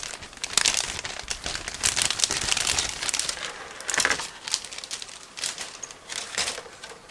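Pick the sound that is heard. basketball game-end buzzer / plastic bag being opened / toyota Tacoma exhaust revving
plastic bag being opened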